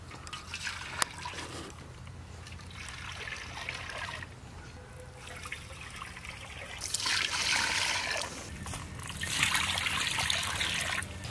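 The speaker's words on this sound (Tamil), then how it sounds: "சுண்டலுக்கு தேவையான அளவு தண்ணியை சேர்த்துக்கொள்வோம்." Water is poured into a cooking pot for sundal over an outdoor village fire, heard as several soft, close bursts of trickling and splashing with quieter pauses between them.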